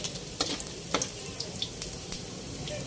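Pork browning in a hot pan for pancit bihon, a steady crackling sizzle with scattered sharp pops and light stirring scrapes.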